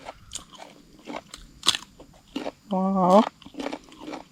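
Crunchy bites and chewing on pounded rice-noodle salad, close up and fairly loud, with a few crisp bursts between speech; people talk throughout.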